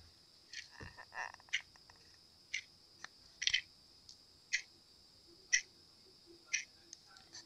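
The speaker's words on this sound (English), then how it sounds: "Oh, I love that ticking." A double-sided resin clock ticking close by, sharp isolated clicks spaced at roughly one-second intervals, faint and alone against a quiet background.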